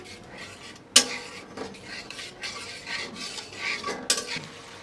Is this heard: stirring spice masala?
yes